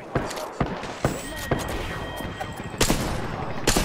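Gunfire in Apex Legends: a slow run of sharp single shots at a steady spaced rhythm, close and punchy, with a denser burst near the end; someone talks now and then over the shooting.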